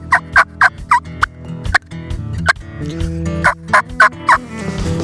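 During a turkey hunt, a mouth call imitates turkey clucks, giving a run of sharp, close, evenly spaced clucks with a short pause midway, set against a low background hum.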